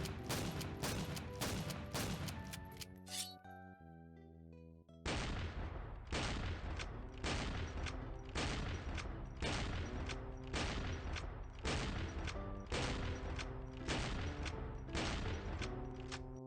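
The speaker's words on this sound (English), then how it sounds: "To shoot faster, alternate between your guns." Rapid gunfire from GunZ: The Duel cracks out in a fast, even rhythm of loud shots, alternating weapons to fire quicker, with a short pause partway before the volley resumes.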